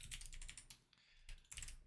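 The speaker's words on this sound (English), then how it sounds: "let me finish typing this out and then I'll explain what this is" Keys on a computer keyboard clatter in quick, close bursts as someone types out code, with brief pauses between runs of keystrokes and no voices.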